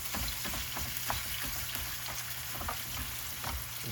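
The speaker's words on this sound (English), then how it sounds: "a big piece of meat into hot beef tallow" A big piece of deer meat fries in hot beef tallow, a crackling, popping sizzle with scattered spits and stirring scrapes, steady and close at low volume with no talk.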